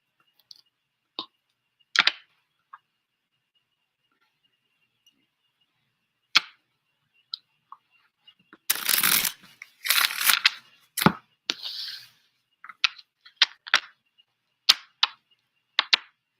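A deck of reading cards gets a quick shuffle: scattered sharp clicks and taps, then a couple of brief riffling bursts in the middle, followed by more isolated card snaps, close and quiet between sounds.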